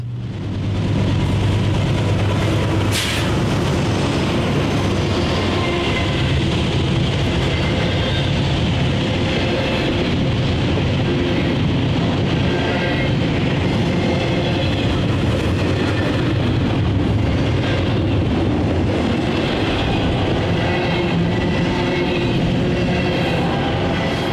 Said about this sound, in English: a westbound Tuesday through Sunday Columbus, Ohio to Corwith, Illinois intermodal train